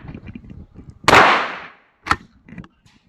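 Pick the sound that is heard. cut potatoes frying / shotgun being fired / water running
shotgun being fired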